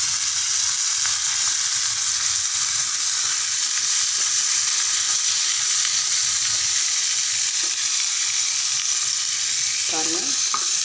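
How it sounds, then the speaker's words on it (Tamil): Mutton sautés with ground gravy in a pan for a hotel-style mutton gravy, giving a loud, constant frying hiss close up, with soft stirring scrapes and a brief clatter near the end. "மட்டனை போட்டுட்டு நல்லா வணக்கி விட்டு மூடி தரலாம்."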